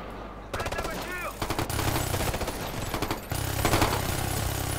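Turret-mounted machine gun firing in the video game Ghost Recon: Future Soldier: loud, close, rapid bursts of automatic fire rattle almost continuously, broken by a few brief pauses.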